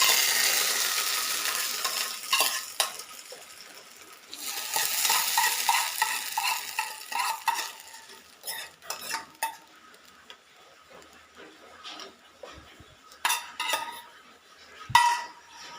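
Hot coconut oil tempering poured into a pan of cooked semolina for vada, then stirred with a spoon; a bright sizzle at first, followed by repeated scraping and clinking of utensil against the pan, with no voices.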